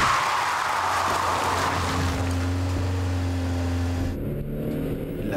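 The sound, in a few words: car approaching at 50 km/h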